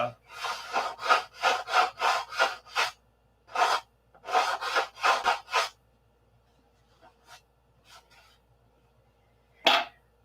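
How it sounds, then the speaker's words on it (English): Rhythmic rasping strokes of hand sanding on a wooden P-47 model wing, a quick run of about a dozen passes, a pause, more strokes, then scattered single rubs. "Okay, that's enough sanding for tonight."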